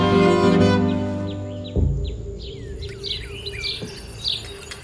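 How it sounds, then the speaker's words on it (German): Loud birds chirping and singing outdoors, several quick high calls overlapping after a rich musical tone fades, fairly close over a soft insect-like hum. "wie laut die Vögel hier sind. Bei uns singen die nicht. Die schreien."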